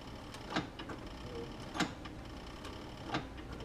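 Consew 206 RB-5 industrial sewing machine making single slow stitches, three soft mechanical clunks spaced about a second apart over a quiet room hum.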